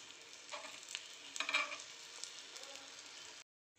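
Brinjal slices sizzle steadily in a frying pan just after being flipped, with a brief scraping stir partway through. The sound is soft and close, then cuts off.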